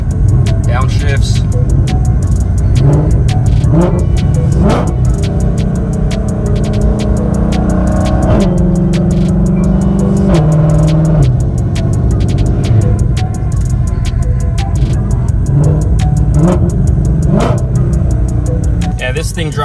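A heavily modified 1050 whp 2020 Shelby GT500 supercharged V8 is driven through a series of downshifts, its engine rumbling loudly and rising and falling in pitch with repeated rev changes, continuous from close inside the car.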